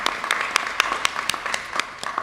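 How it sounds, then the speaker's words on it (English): Scattered audience applause at a community home-repair nonprofit event, with a few distinct sharp claps standing out over a softer background of clapping, moderately faint. "that absolutely deserves a round of applause"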